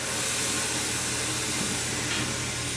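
Steady, fairly loud rush of compressed air hissing from a tire machine as it seats the popped bead of a Can-Am Outlander XMR 1000 ATV tire, continuous throughout with a sharp bump at the very end.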